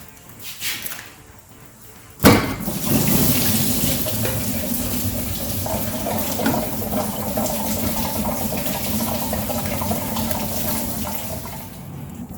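Coolant gushing from a pulled lower radiator hose on a squarebody truck during engine removal, a sudden burst followed by a steady, close splashing pour that holds for several seconds.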